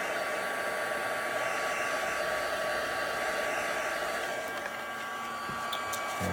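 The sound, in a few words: heat tool drying stamped acrylic paint on book page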